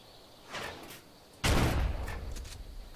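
Gunshots in the survival game ARK, a softer distant shot followed by a much louder, close blast with a booming tail that rolls on for over a second, no talk.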